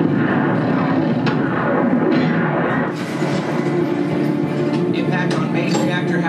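Point defense cannons on a warship blaze in a continuous rattling roar, loud and dense, with staccato cracks and rumble layered over a space battle movie scene.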